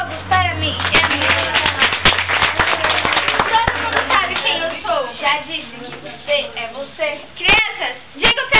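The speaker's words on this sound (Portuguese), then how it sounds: "Crianças, aplausos para mim." Children clap together in a busy, uneven burst of applause while voices chatter over it, fading to a few scattered claps near the end.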